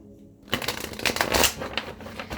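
Tarot cards shuffled briskly and drawn, a fast crisp riffling flutter that starts after a brief quiet moment, close and clear with no talk.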